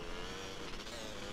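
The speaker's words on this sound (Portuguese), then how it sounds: "é o carinha da moto" A motorbike engine in the video game Rust drones steadily at a constant pitch, holding a continuous mid-loud hum with no pauses.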